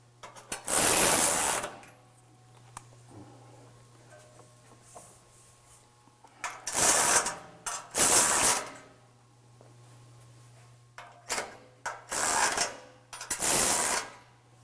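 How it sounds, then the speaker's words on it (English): A ratchet cranks in several loud, close bursts of rapid clicking separated by quiet pauses as bolts are tightened on a Go Rhino BR5 front bumper for a 2015 Ford F-150, securing the bumper shell to the winch tray. "you're going to tighten up the 3 bolts that are actually securing the bumper shell to the winch tray"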